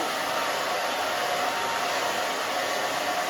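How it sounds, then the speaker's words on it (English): A hair dryer blows with a steady, loud whooshing roar that holds constant throughout, with no voices. "you can see I'm just moving the blow dryer"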